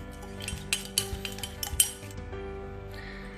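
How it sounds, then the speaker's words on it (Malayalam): A spoon clinks and scrapes against a mug while melted butter and sugar are stirred together for a quick mug cake, a quick run of light metallic taps followed by softer scraping. "ഈ പഞ്ചസാര ഇട്ടിട്ട് നന്നായി ഒന്ന് ഇളക്കി കൊടുക്കാം."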